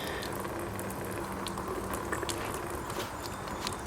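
Water runs steadily from a leaky, low-flow portable pressure camp shower, a constant close hiss and trickle with no pauses and no talking.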